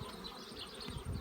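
Honeybees buzz steadily inside an open beehive, a close, continuous hum that stays fairly quiet with no talk over it.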